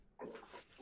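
A dog makes a short, faint noise indoors, a brief whiny burst lasting under a second with no talking over it.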